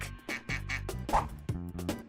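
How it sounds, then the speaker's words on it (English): A duck quacks in a quick series of loud, close, nasal calls with brief gaps between them, standing alone without any voices. "It's a duck."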